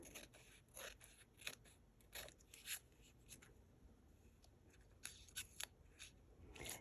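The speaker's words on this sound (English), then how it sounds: "But these scissors work just fine." Close, quiet snips of scissors cutting paper, several crisp cuts in irregular bursts with brief pauses between them.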